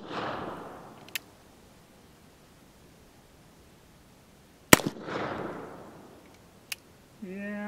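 Gunshots from a Colt 1851 revolver firing .36 caliber conical bullets: one sharp, loud crack around mid-clip with a brief echoing tail, plus smaller clicks and some hissy background noise.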